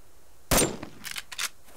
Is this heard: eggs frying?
no